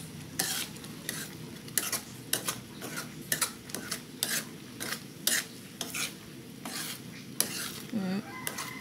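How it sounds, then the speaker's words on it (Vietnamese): Vegetarian Vietnamese fish sauce (mắm chay) coming to a boil in a pot, with a spoon scraping and stirring in repeated close clinks over a steady low bubbling simmer. "Giờ bắt đầu nó đã sôi rồi nè các bạn"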